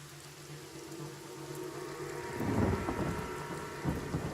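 Rain spell with rolling thunder in the video game Divinity: Original Sin, a steady downpour hiss swelling into a deep thunder rumble midway, then a second smaller rumble near the end.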